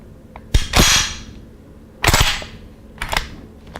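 A Czech Vz.58 rifle's bolt slams forward as it is released with the manual hold-open button, giving sharp metallic clacks: one main snap followed by two further crisp clicks, close and loud in a quiet room.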